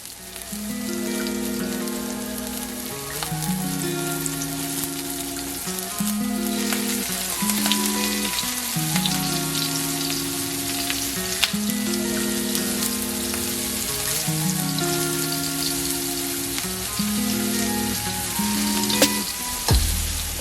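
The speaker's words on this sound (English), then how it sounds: "right into a hot preheated pan with my hot oil" Salmon and shrimp searing in a hot preheated pan of oil, a continuous crackling sizzle running under steady background music.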